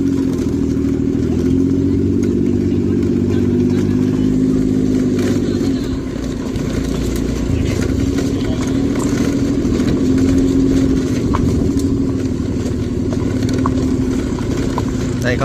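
Motorbike riding into a parking lot at a waterfall and cave tourist site in Laos, a loud, steady engine drone close by, easing slightly midway, with wind noise and a voice talking over it.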